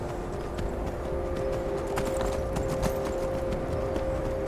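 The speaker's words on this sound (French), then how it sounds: "Je vais aller jusqu'au palais en cheval." Horse hooves clip-clop in a quick, steady rhythm over a continuous background hum in the video game Skyrim, fairly close and clear, with no talking.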